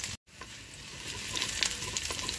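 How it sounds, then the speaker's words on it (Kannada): Oggarane tempering sizzles and crackles steadily in a hot pan for Kannada vegetable and greens melogara, bright and continuous after a brief silent gap, with popping bursts near the close. "ನೋಡಿ ಇವಾಗ ಚೆನ್ನಾಗಿ ಒಗ್ಗರಣೆ ಮಾಗಿದೆ."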